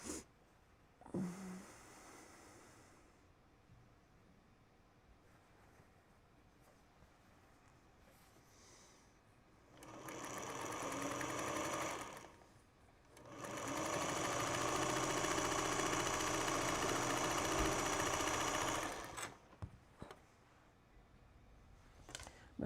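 A sewing machine stitches quilt pieces for a star cabins quilt top onto a leader and ender scrap, running in one short burst and then a longer steady whirring run, with quiet pauses around them.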